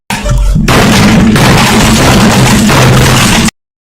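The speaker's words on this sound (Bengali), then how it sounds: "আরে ফায়ার বল কোথায় পড়লো কোথায় মারল" A Grand Warden fireball explodes in the Clash of Clans video game, a loud, dense booming blast that roars steadily for about three seconds after a quieter start and then cuts off abruptly.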